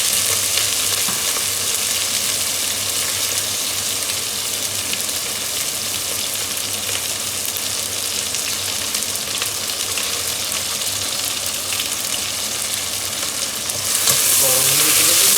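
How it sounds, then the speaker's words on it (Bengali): Chopped onion and green chili sizzle loudly in hot oil for a Bengali potol and pangas fish curry, a steady close crackling hiss that swells briefly near the end. "এখন পেঁয়াজ, এই যে এখানে রাখছি, পেঁয়াজ আর মরিচ কুচো করে দিয়ে দিব।"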